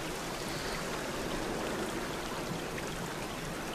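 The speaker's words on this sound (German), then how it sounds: "Diesen Springbrunnen." Steady splashing of a garden pond fountain in the Black Mirror video game, a continuous close stream of falling water with no talk.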